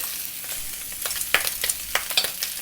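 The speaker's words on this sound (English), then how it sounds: "Using medium-low heat, let's just slowly pan fry this for a while first." Pork spare ribs pan frying over medium-low heat with rock sugar added, a steady crackling sizzle with irregular louder pops and spits near the mic, no talking.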